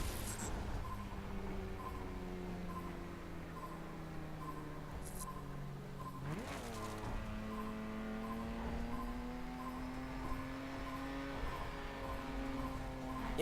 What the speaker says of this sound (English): And the engine does sound like a straight 6 to me.